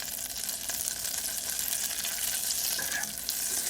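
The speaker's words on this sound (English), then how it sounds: "You guys hear the sizzle of it." Steady, close sizzling of a tablespoon of butter melting in a pan over medium heat, a continuous crackling hiss without any talking.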